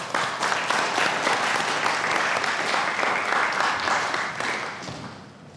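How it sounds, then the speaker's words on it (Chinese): A crowd breaks into loud, sustained applause as the Bison racing team is welcomed onto a stage at a racing team presentation event. Dense, steady clapping runs throughout and tapers slightly at the end. "掌声有请。"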